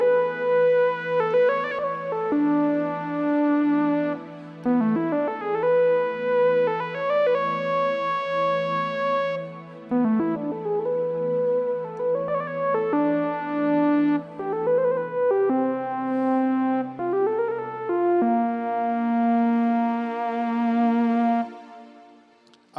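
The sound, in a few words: Korg Triton synthesizer Express lead sound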